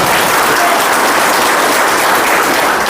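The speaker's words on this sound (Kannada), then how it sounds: "ಜೋರಾಗಿ ಚಪ್ಪಾಳೆ ಹೊಡೆದು ಸಹಕರಿಸಿ" Audience applause at a Valmiki Nayaka community awareness meeting in Mulbagal, loud dense clapping from a large crowd sustained evenly throughout, with no break.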